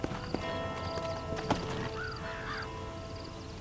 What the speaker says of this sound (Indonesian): Apa kita naik kuda ya ke dalamnya?